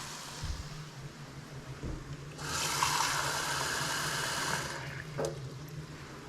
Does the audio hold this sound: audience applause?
no